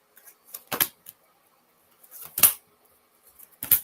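Oracle cards being shuffled by hand, three short crisp riffling bursts spaced about a second and a half apart, close and fairly quiet with near silence between.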